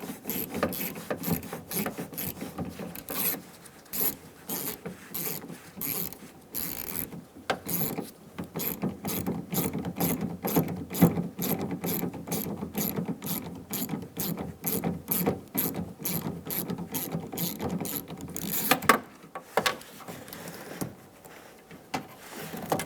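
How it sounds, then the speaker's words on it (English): Ratcheting clicks from a T20 bit backing out the lock cylinder cover screw on a 2000-2007 Ford Focus front door, a steady close run of rapid mechanical ticks for about eighteen seconds before a short pause and a few final clicks. "Using a T20 bit, we're going to remove the screw for the lock cylinder cover."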